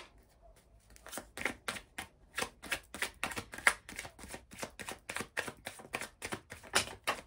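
Oracle cards from a Line of Love deck being shuffled and drawn: a steady run of soft, crisp card snaps and riffles, close and quiet, repeating about every half second.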